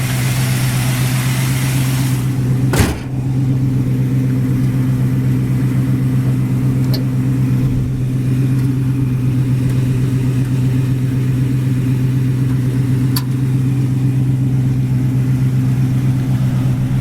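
A 1970 Dodge Challenger's 318 small-block V8 idles steadily with a deep, even rumble throughout, a brief thump early on and faint clicks, no talking.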